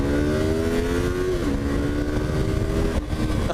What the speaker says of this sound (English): You can actually like rev it up high and have a good time